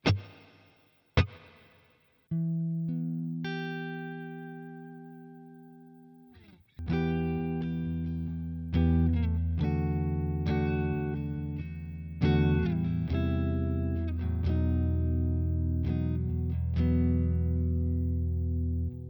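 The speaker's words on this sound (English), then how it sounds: "Using the Telecaster, let's start with the clean tones." Clean electric guitar, a Fender Telecaster, rings out through a Boss Katana Mk 2 amp: a few single plucked notes and sustained chords, then a steadier run of strummed chords and melodic lines.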